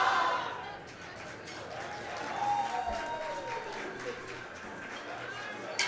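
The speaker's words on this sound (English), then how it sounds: "Lots of support from the crowd there." A crowd at a high school powerlifting nationals meet cheers and claps for a lifter, a steady wash of applause and shouting that swells midway and carries on under a voice talking.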